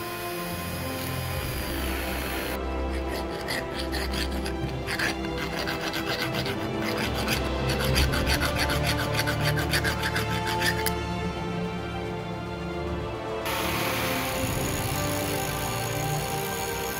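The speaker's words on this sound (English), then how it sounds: "is removed by a combination of the Dremel's sanding" A round file rasps back and forth on cast brass in steady, rhythmic strokes for several seconds, close and loud, with a softer grinding buzz before and after.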